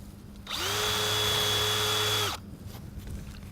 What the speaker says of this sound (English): And we'll drill right in and then tap in the spout.